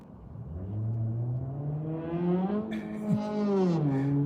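A small car engine revs loudly nearby, its pitch climbing and falling in a whiny, buzzing drone with a brief sharp blip near the end.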